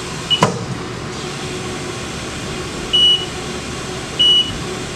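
Haas CNC mill running a WIPS probing cycle for a corner work offset, a quiet machine hum with a sharp knock at the start and two short electronic beeps spaced about a second apart.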